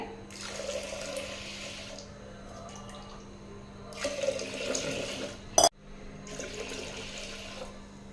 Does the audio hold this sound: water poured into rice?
yes